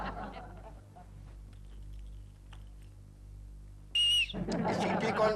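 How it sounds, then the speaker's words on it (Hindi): A single sharp whistle blast cuts in briefly in an office setting after a stretch of quiet keyboard clatter, and is followed at once by a burst of loud voices. "सीटी कौन बजा रहा है?"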